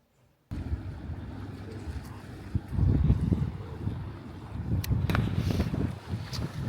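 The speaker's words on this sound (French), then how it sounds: "J'espère que vous m'entendez parce qu'il y a quand même pas mal de vent." Strong wind blowing by the sea at the Prado in Marseille, a steady roar of gusts and buffeting against the microphone that swells louder midway and continues throughout, with no voices.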